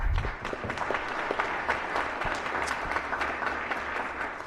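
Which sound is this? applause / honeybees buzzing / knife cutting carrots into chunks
applause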